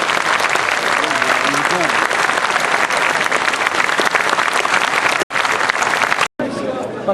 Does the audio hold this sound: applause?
yes